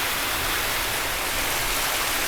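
Rainwater pours into a house like a waterfall, a dense, steady, loud hiss and splash of falling water that fills the whole stretch without a break.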